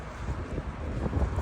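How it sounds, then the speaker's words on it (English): Wind gusts buffet a microphone outdoors in a Russian suburb, a low, rough rumble that rises and falls in loudness over a moment, with no voices. "It's windy."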